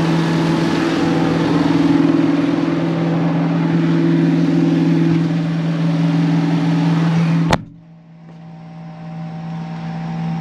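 A farm tractor engine runs loud and steady while direct-seeding rapeseed with a Horsch 9 m Sprinter drill, a continuous droning hum that cuts abruptly with a click to a quieter cab hum.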